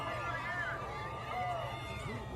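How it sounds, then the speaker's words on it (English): A large crowd cheers at a public gathering as someone waves, a continuous roar of voices with bursts of excitement throughout, steady and dense. "Listen to the crowd cheer."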